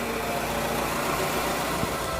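A Toyota Camry engine runs steadily at idle after its faulty starter was tapped, a continuous close, even mechanical hum with no talk over it.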